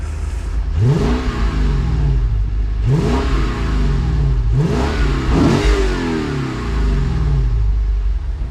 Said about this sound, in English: we'll rev this car, which is gonna sound so good